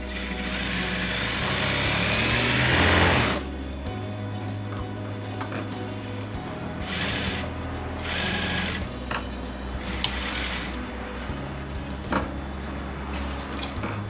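A sewing machine runs a continuous mechanical stitching whir for a few seconds, then stops, followed by short back-tack bursts and quieter clicks of the machine while seaming a cushion cover with piping.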